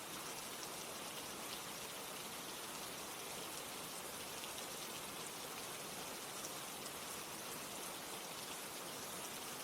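Steady, dense rainfall pours down without pause, a constant close hiss of countless drops with no voices or other sounds.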